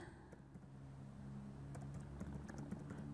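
Computer keyboard keys clatter in steady quick bursts as text is typed into a Microsoft Word document, close and moderately loud with no talking.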